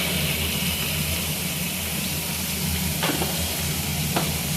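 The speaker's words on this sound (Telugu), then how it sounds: "దాని తర్వాత సొరకాయ వేయాలి. సొరకాయ ముక్కలు వేసుకోవాలి." Pieces of bottle gourd go into a hot pan with fried green chillies for sorakaya chutney and are stirred, a steady loud sizzling hiss with a couple of brief utensil scrapes near the end.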